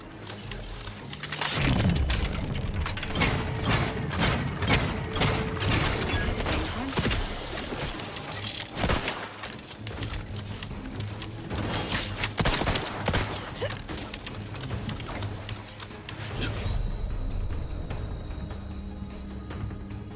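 Rapid pistol gunfire in a video game, many sharp close shots cracking in quick bursts over dense game sound, with brief pauses between volleys.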